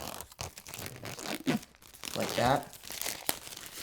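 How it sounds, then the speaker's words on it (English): Plastic wrap being peeled and torn off an Apple TV 4K box: crackling crinkles and ripping in several uneven bursts, close up, with a person speaking briefly in between. "we can just slice open the plastic like that. And then we're just going to peel this off."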